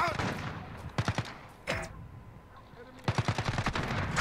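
An MP5 fires in short rapid bursts in a video game firefight, loud and close, with gaps between the volleys.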